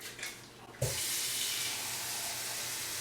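Water runs steadily from a kitchen tap as cups of water are filled, a broad constant hiss that starts after a brief moment of quieter handling.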